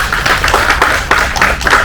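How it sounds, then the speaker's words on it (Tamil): An audience at a film press show claps hands loudly and close, a dense, uneven patter of many hands with sharp individual claps standing out. "உண்மையாக இருந்தால் கைதட்டுங்க."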